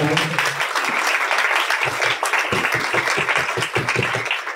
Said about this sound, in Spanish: Por lo cual les pido un fuerte aplauso.